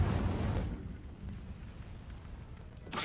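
The Incendio fire spell in Hogwarts Legacy, a whooshing burst of flame that roars loudly at first, dies into a low crackling rumble, then flares again briefly at the very end.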